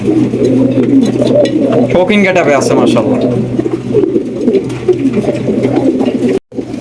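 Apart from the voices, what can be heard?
pigeons cooing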